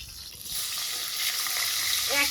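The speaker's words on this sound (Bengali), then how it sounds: "এখন কড়াইয়ের মাছগুলো একবার উল্টে দিয়ে নিই" Rohu fish pieces fry in oil in a kadai, giving a steady, close sizzle with a brief clink near the end.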